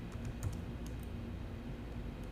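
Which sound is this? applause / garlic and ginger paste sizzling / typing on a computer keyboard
typing on a computer keyboard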